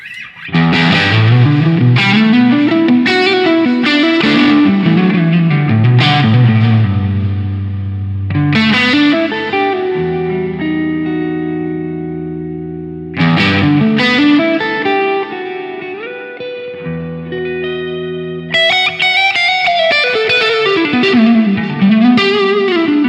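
Electric guitar through a Line 6 POD Go Wireless multi-effects processor, playing chords and melodic lines drenched in delay, reverb and modulation effects, loud and sustained with no talking.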